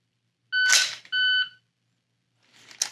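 A shot timer gives two sharp electronic beeps about 0.6 seconds apart, marking the start and the par time. A short, rough burst of noise follows a second later.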